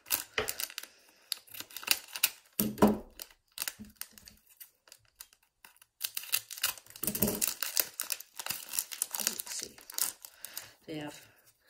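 Crinkly foil Pokémon card booster packs rustle and crackle as scissors cut them open with sharp snipping clicks, in irregular bursts, while someone talks quietly at times.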